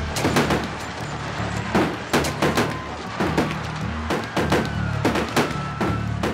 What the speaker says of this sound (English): the gunfire was coming from higher ground